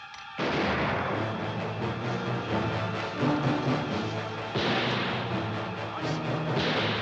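A dense, continuous roar of gunfire and artillery shots from a 1952 swashbuckler battle scene, loud and sustained, with heavier booms swelling partway through.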